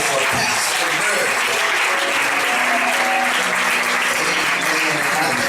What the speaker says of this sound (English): give God a hand clap of praise for Pastor Murray.